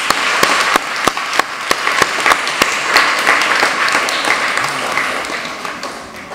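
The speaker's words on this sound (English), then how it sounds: "Let me use this opportunity to invite from the audience another wild round of applause for" Audience at a primary school debate competition applauding both teams, loud dense clapping with several sharp, distinct close claps punctuating the first half, continuing steadily throughout.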